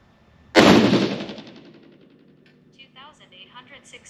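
A single loud rifle shot from a 6.5 PRC loaded with IMR7828SSC powder, a sharp crack with a ringing tail that fades over about two seconds, followed by faint clicks and handling noise.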